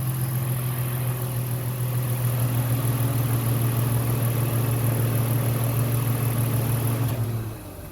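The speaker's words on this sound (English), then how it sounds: "So now the motor starts up and good to go." A 2003–2008 Infiniti G35 engine, just repaired after a starter fault, runs at a steady, close idle with an even hum for several seconds before it shuts off near the end.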